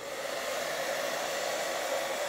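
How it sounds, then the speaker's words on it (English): A hair dryer blows steadily at close range, a continuous loud airy whir with no pauses and no talking. "I'm just going to use my hairdryer."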